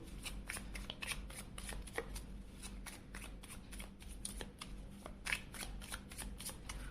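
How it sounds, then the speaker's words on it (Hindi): Tarot cards are shuffled close up in a steady run of soft, crisp riffling flicks, with brief pauses and one sharper snap, with no talk over them. "सबसे पहले हम आपके लिए कार्ड शफल करेंगे।"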